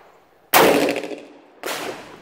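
Two loud shots from a Smith & Wesson Governor revolver firing defensive loads, a sharp crack followed by a decaying boom and then a second report about a second later, close and outdoors.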